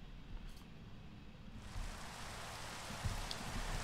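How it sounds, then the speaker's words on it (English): Rain falling in the Minecraft video game, a soft hiss that swells partway through into a fuller steady patter, faint and even with no talking. "And it's raining now."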